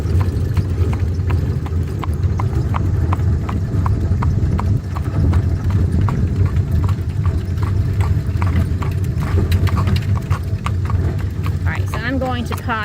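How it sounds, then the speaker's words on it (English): Steady clip-clop of a Mennonite horse's hooves trotting on pavement with a rolling carriage rumble underneath, continuous and close; the horse whinnies briefly near the end. "riding in a horse and carriage"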